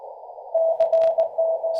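Steady CW sidetone from an amateur radio station operating on 17 meters, a clean single-pitch tone keyed in short and long bursts over a faint hiss of band noise, with no voices.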